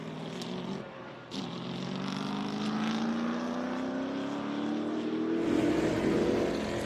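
Racing engines roar past at Sebring, a loud continuous drone rising steadily in pitch as the cars accelerate away, with a fresh surge near the end.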